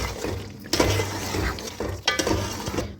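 Green chilies and ginger stirred into a sizzling white karahi, a steady close frying hiss broken by a few scraping, clinking stirs of a utensil against the pan.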